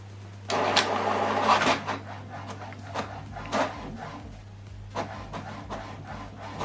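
A printer whirs and clacks up close while printing a double-sided color document, with a sustained mechanical run at the start followed by several sharp clicks and shuffles as paper feeds.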